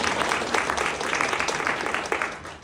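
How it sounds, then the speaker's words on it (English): Applause fills the room at an indoor company employee forum, a steady dense wash of many hands clapping at close range for the whole stretch, with no talk over it. "So give them a round of applause."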